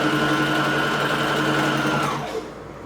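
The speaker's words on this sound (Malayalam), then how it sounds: "നൂലില്ലാണ്ടാണ് തയ്ച്ചു പോണെന്ന് നോക്കിയത്." A household sewing machine runs without thread in a steady, fast, whirring buzz, close by, then slows and winds down near the end.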